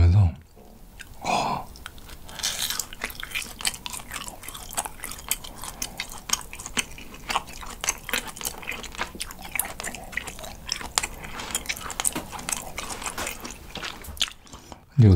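Grilled cheese with a buttery, toasted crust being chewed close to the mic, wet squeaky bites and crunchy chomps repeating steadily over several seconds, with brief quiet talk at the start and end.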